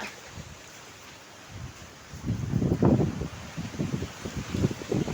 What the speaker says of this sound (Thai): ดูครับลมเข้าหลังบ้านครับ มีต้นไม้แค่ หลังบ้านผมครับ แรงครับ